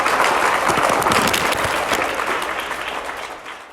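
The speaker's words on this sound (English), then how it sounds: "Let's give all our award winners a round of applause." A school presentation day audience breaks into hearty applause for award winners that gradually thins and fades toward the end.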